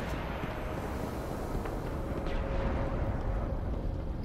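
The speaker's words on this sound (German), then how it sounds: "Erstmal die Granaten werfen" Thrown grenades erupting in a Destiny PvP match on the Twilight Gap map, a dense continuous roaring blast wash with faint scattered pops, loud and sustained with no voices.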